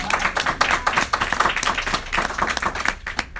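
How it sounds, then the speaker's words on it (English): Live applause from a small audience at a gathering, a steady patter of hand claps lasting a few seconds, fairly close and moderately loud, with no talking over it. "Let's give her a round of applause."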